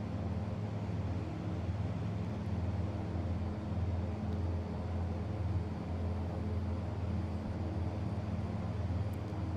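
Steady cabin drone inside a YS-11 turboprop airliner in a flight simulator, a constant low engine hum with a rumbling tone, even and continuous with no talk.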